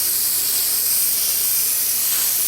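Steady, continuous hiss of spray paint being applied to an RC car shell, close and loud, with no breaks or talking.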